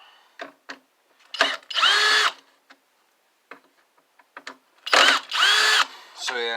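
Power drill backing screws out of the casing of a vintage CRT television, two loud whirring bursts of a few seconds each with quieter clicks and handling taps between them.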